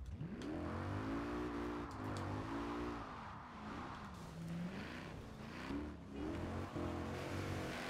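Mercedes SLS AMG in Forza Horizon 4 driven from a first-person view, its engine droning and rising and falling through shifts and revs in a continuous, fairly subdued tone.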